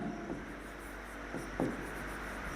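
Pen scratching on paper while working through a Class 10 maths proof, with a few short, faint strokes, close up and quiet, no talking.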